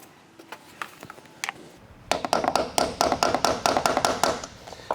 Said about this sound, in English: So that's where that hammer is going to come into play. So we're just going to gently tap.